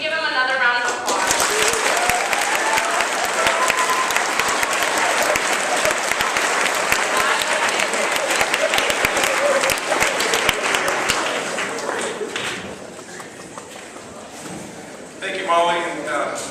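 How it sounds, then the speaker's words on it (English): Long burst of audience applause after a district attorney's talk on justice, steady crowd clapping that gradually thins, with a voice speaking briefly at the start and again near the end. "can we give him another round of applause?"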